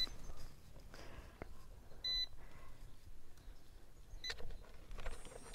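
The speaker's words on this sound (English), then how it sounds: "And the beeping just means it's ready." Faint, scattered electronic beeps from a small drone connecting in a quiet room, a few short tones spaced apart with a brief chirping sequence near the end.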